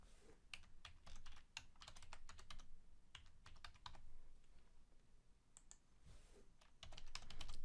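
A password is typed on a computer keyboard while Windows 10 is installed in a Hyper-V virtual machine, close-up clicking keystrokes in irregular quick bursts with brief pauses, quiet and alone.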